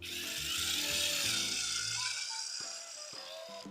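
A drill whirs steadily for a couple of seconds with a rough, rattling grind, then winds down, leaving a few faint knocks.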